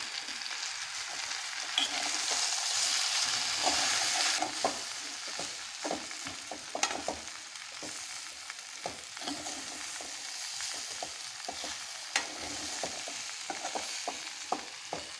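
A pan of tempered tapioca root mixed with grated coconut sizzles steadily while a spoon scrapes and stirs through it with frequent small clinks, close and continuous.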